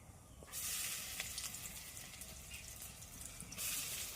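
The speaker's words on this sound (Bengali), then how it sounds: "একটা শুকনো লঙ্কা দিয়ে নেবো মান কচুটা দিয়ে নেব তেলের ওপরে" Taro pieces and a dried chili drop into hot oil in a kadai, setting off a close, steady sizzle that rises sharply at first and keeps crackling evenly throughout.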